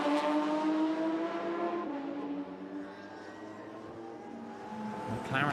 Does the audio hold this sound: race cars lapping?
yes